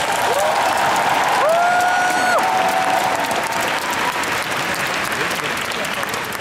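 A concert crowd at the Phantom Singer 2 gala in Daegu claps in a thick, continuous roar, with rising cheers and whoops.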